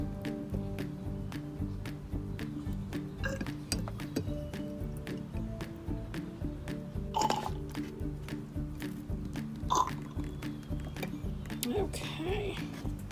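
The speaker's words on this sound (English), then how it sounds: "Then you'll take your oil. This time I'm using baby oil, but the choice is yours. Pour that into your container." Baby oil pours and drips into a container, soft wet glugging and small clinks running steadily at moderate distance, with a person talking over it.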